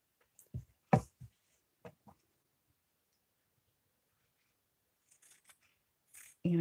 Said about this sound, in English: Now I'm going to cut this selvage strip off because we don't need it.